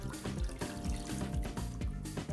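Liquid pouring into an oven-proof dish at the base of a mince-and-rice hedgehog bake, with a steady trickle and splashing, repeated low gurgling glugs, and drips running throughout.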